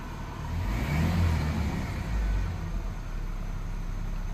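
A 1996 Ford Ranger engine, undergoing check engine light and DPFE sensor work, runs close by with a steady mid-pitched note that swells in two brief revs before settling back to a continuous idle; no one speaks.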